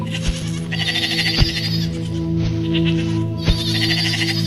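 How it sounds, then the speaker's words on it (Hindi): Sheep and goats bleat from across a river, several distinct cries rising and falling in clusters over a steady low drone. "नदी के उस पार से बकरियों की आवाजें उसे फिर सुनाई देने लगी"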